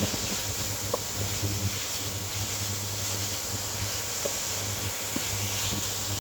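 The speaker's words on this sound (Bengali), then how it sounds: "এটাকে আর কিছুক্ষণ নেড়ে চেড়ে ভেজে নিলে" Mustard greens frying with dried chillies in a pan, a soft steady sizzle with faint scraping taps of stirring scattered through, close but fairly quiet, and no talk.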